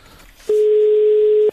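Telephone busy tone after a call is hung up: a single loud, steady electronic beep lasting about a second, close and clear over a quiet line.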